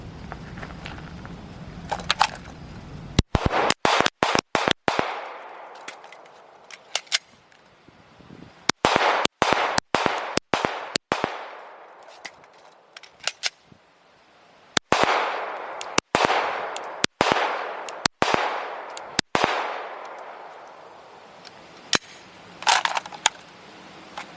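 Repeated gunshots ring out at an outdoor shooting range during a timed drill, loud sharp cracks arriving in quick bursts and clustered strings with short pauses between groups, each shot trailing a brief echo.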